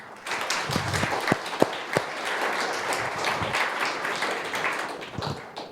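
A crowd applauds the event and video teams at a generative AI talk night, with dense, sustained clapping from many people and a few sharper nearby claps standing out.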